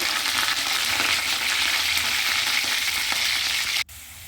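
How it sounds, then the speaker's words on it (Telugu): Green chillies and curry leaves frying in hot oil with cumin and mustard seeds, a loud, dense, steady sizzle close by that cuts off abruptly near the end, leaving a quieter hiss. "అవన్నీ బాగా ఫ్రై అవ్వాలండి"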